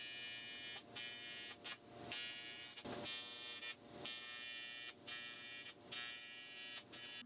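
Welding two aluminum dash pieces together, a faint, bright electric buzz in repeated bursts of about a second each, broken by short gaps.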